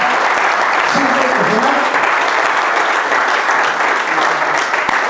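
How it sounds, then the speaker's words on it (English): Loud, sustained applause from a packed crowd at a men's conference, dense clapping holding steady throughout with faint voices and cheers mixed in. "I need you to give him a strong applause."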